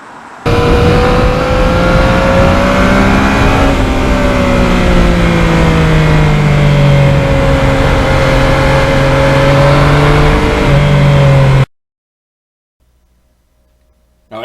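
A 2020 Yamaha MT-09 motorcycle engine drones loudly and steadily while riding, its pitch wavering with throttle changes, then cuts out abruptly near the end.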